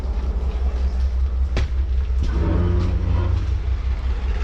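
Near Habibkot railway station in Sindh, a passenger train locomotive shunts with a loud, steady diesel rumble and a sharp metallic clank partway through, followed by faint rhythmic rolling.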